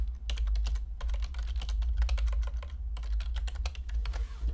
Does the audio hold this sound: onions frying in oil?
no